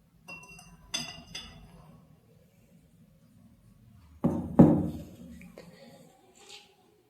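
Glassware clinks and knocks close by as acid is poured into a large glass beaker in a lab, with a few sharp taps early and a louder cluster of clinks and a brief pour near the end.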